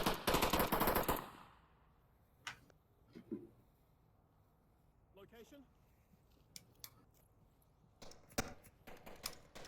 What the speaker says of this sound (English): Shots coming out from the Marsoc Towers.